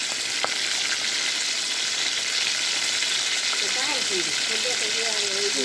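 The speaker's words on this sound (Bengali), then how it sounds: "মাছটা হলো ভাজা নিতেছি" Fish fries in a pan of hot oil with a steady, dense sizzling hiss throughout, close and fairly loud, while a faint voice briefly sounds beneath it near the end.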